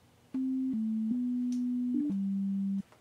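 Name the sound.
synthesizer sine wave notes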